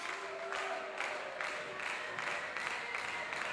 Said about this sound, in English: As you can hear the crowd at St. Clair College come alive.